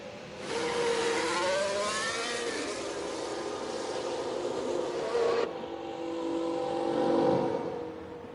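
Race cars circle the Lusail track in the F1 Manager 24 racing game, a sustained engine whine with rising and falling pitch, changing abruptly midway to a softer drone, moderately loud with no speech.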